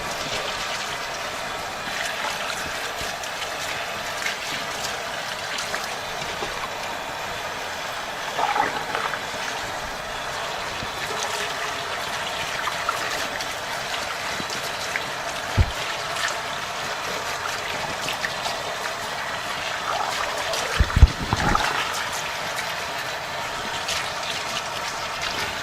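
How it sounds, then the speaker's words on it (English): Water runs steadily over microgreen seeds being rinsed, a continuous close trickle and stream with a few brief splashes and knocks, no talking. "And then I just give these a good rinse."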